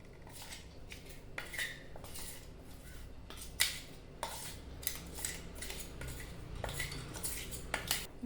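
A spoon stirs a ground powder of coconut, peanuts and white sesame into a gooseberry gojju, giving a steady run of close metallic clinks and scrapes against the bowl with no talking.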